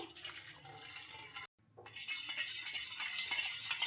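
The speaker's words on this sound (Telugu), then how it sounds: "ఈ వాటర్ని అయితే ఒక కప్ అయితే వేసుకుంటున్నాను" A cup of freshly boiled water is poured in and stirred with salt in a home kitchen, making steady close-up splashing and swirling with a brief pause midway, then continuing; no talking.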